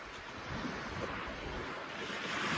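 Waves washing onto a quiet beach on Dunk Island off the North Queensland coast, a steady soft surf rush mixed with wind noise, fairly faint and unbroken.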